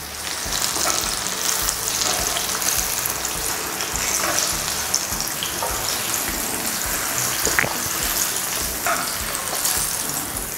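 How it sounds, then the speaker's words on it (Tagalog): Chicken pieces fried in a batch for sesame nuggets sizzle loudly and steadily in a pan, with scattered sharp crackles and pops close by. "At itutuloy ko lang yung pagprito ng iba pang chicken na natira."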